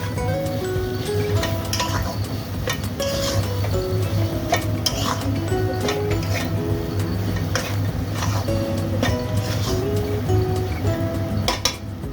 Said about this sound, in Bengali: সেদ্ধ করা আলুটা আমি দিয়ে দেব সুন্দরভাবে আলুটা মাখিয়ে নেবো